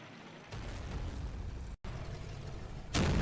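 Artillery barrage in the wargame Combat Mission Fortress Italy, a sustained rumbling roar of explosions that drops out briefly, resumes, then swells into a louder blast at the end.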